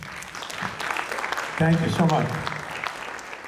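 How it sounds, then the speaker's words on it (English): Applause from an audience in a theater during a quarterly meeting, honouring sponsors, a steady round of moderate clapping with someone briefly speaking over it midway. "Let's give them a round of applause."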